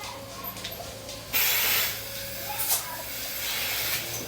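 A milking machine's vacuum is switched off on dairy cows at a dairy with a variable speed vacuum pump, giving a sudden, steady hiss of releasing air over a low, constant mechanical hum.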